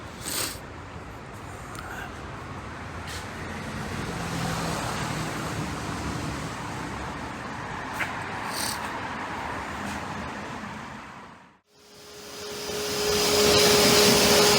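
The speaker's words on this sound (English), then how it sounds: "So it's all being thoroughly vacuumed." A vacuum cleaner runs steadily inside a Ford EcoSport during decontamination from industrial fallout, giving a continuous airy roar with small shifts as the nozzle moves. It cuts out briefly near the end, then starts up again loud and close.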